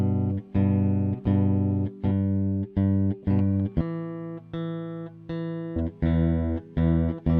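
A guitar plucking two strings in a repeating pattern, each note ringing clearly for a moment before the next pluck, giving an even, steady rhythm of close, clean tones with no talk.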